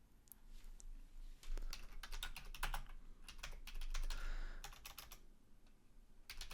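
Typing on a computer keyboard in irregular quick clusters of clicks with short pauses, soft and close, with no talking.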